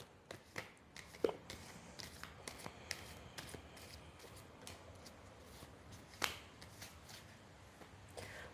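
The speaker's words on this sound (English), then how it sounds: "One more shuffle" Soft riffling and tapping of a deck of tarot cards being shuffled, in quick bursts with short pauses, close and quiet.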